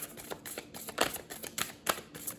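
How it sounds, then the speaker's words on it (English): Tarot cards being shuffled and flipped by hand give quick, crisp papery snaps and rustles in an irregular burst of close, light clicks. "I saw those cards flip."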